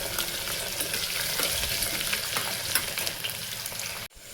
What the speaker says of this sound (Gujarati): દૂધીને થોડી વાર સાતળી લઈ, પછી એમાં ટમેટું ને મરચું ને બધું નાખી દઈએ